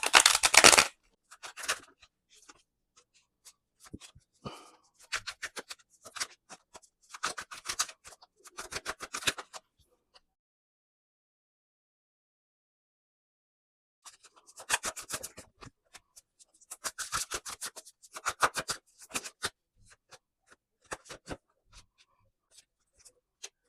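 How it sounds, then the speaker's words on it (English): Bursts of papery riffling and soft slapping as tarot cards are shuffled, in two separate runs with a silent pause between them. "I'm going to shuffle the cards"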